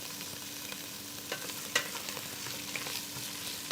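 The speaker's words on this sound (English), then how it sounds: "You can totally see it and hear it sizzling already straight" Soft, steady sizzling of onions in a hot frying pan for a Punjabi dhaba chicken curry, with occasional small pops and stirring clicks, fairly quiet and close.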